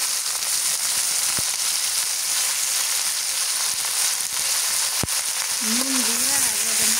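Desi chicken frying in a pan with salt while being stirred, a steady close sizzle with occasional sharp spatter pops. A voice speaks briefly near the end.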